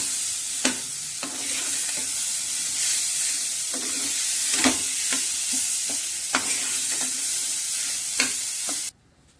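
Hand-mashed medium potatoes being mixed into a hot pan, a continuous close sizzle broken by repeated sharp scrapes and taps of a spatula against the pan, cutting off at the end.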